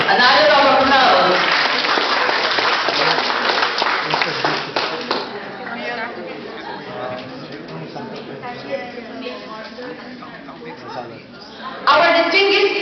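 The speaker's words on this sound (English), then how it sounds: "Another round of applause." Audience applause at an Ilocano-Irish Association coronation night, a burst of clapping from a crowd in a hall that fades under the rest of the room, with more clapping near the end and voices throughout.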